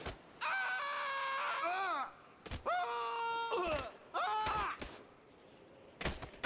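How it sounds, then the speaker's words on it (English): Loud, strained screams from characters in the video game GTA 5, several long wailing bursts separated by short gaps and sharp thuds, with a final brief outburst near the end. "I'm just listening to the screams."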